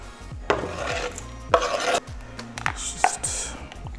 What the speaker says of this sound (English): going to dice this up. Okay, the rough chop